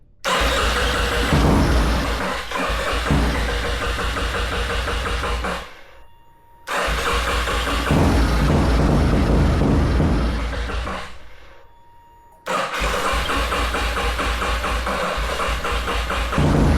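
A Yamaha XT250 motorcycle, abandoned and not starting, cranks in three long loud bursts with a churning starter and sputtering engine, separated by short pauses, close up with no talk.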